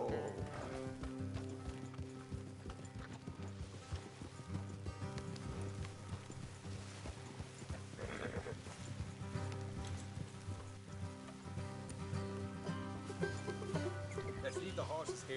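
Horses ride at a steady clip in the video game Red Dead, hoofbeats clopping continuously under a dense bed of music and ambience, faint and far from dominant, with no talking.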